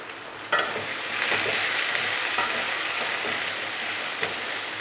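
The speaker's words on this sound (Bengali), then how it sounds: "নুন দিলাম, হলুদ দিয়ে দিলাম, দিয়ে একটু তেলে নাড়াচাড়া করে নেবো" Ivy gourd (kudri) frying in oil with salt and turmeric, a steady close sizzle with occasional louder crackles and stirring scrapes throughout.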